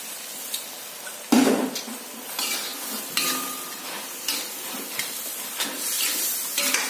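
Leafy vegetables stir-fried in a large wok for fried rice vermicelli: steady sizzling with repeated scraping and clattering of the spatula against the pan, one sharp clang near the start, no talking.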